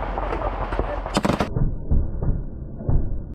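Gunfire rings out during jungle warfare training by Indonesian TNI and US troops, with a short cluster of sharp shots close by and a muffled field ambience afterward.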